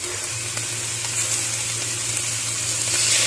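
Coconut milk poured into a hot pan with catfish sets off a broad, steady sizzle and bubbling hiss, close and unbroken throughout, without any voices.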